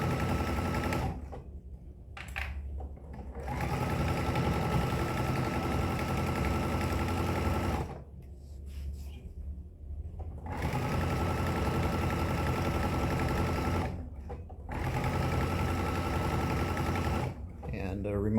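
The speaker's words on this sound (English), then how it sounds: "I'm going to sew a 1/4 inch around the bottom" A sewing machine stitches a quarter-inch seam around the bottom of a fabric tissue tote, running in long steady whirring bursts with short stops between them, close and fairly loud.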